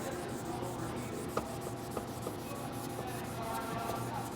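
Steady, soft rubbing of a hand sanding block back and forth in an X pattern over automotive paintwork, a continuous scratchy hiss with occasional small taps.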